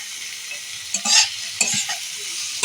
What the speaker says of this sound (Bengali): টমেটোটা একটুখানি নেড়ে নেব